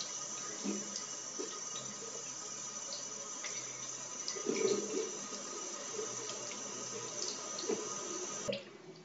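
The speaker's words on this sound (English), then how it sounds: "so now I'm just going to rinse those off" Make-up brushes being rinsed under a running tap into a sink, a steady close stream of water with brief splashy surges as the brushes pass through, no talking.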